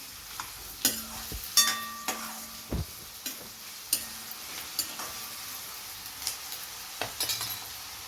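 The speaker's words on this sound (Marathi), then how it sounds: "हे चांगलं व्यवस्थित हे कांदा भाजला गेलेला आहे" Onions fry with a pinch of salt in a pan, sizzling softly as a spoon stirs them, with repeated sharp clinks and scrapes of utensil on metal at irregular intervals.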